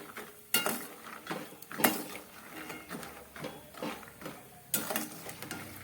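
Almonds frying in a hot pan for panjiri, with repeated scraping and clattering of a utensil against the pan, close and moderately loud, plus a faint sizzle underneath.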